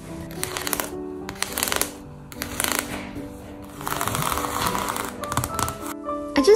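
Painted paper collage pages from a sketchbook are handled and turned, giving repeated bursts of crisp rustling and crinkling separated by short pauses, close and fairly loud, with no talking.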